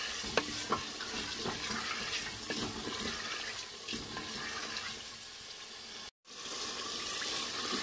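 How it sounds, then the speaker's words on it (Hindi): Chicken fries in a spiced masala in a pan with a quiet, steady sizzle and occasional stirring scrapes and taps, soft and close, cut by a brief silent gap near the end. "इसे भी 2 से 3 मिनट तक भून लेंगे"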